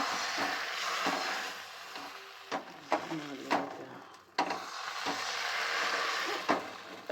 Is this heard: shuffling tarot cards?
no